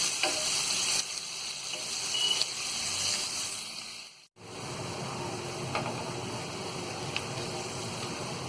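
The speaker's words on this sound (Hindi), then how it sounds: "इस तेल में डाल देंगे और इस प्याज को गोल्डन ब्राउन होने तक हम तलेंगे।" Chopped onions sizzle steadily in hot oil, frying toward golden brown with a continuous crackling hiss, briefly dropping out mid-way before resuming with occasional sharper pops.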